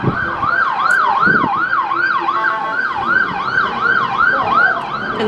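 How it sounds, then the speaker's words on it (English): An ambulance siren wails in a steady rising-and-falling sweep as it passes along a street near the Puerto Vallarta cruise port, loud and continuous over faint traffic rumble. "There goes an ambulance."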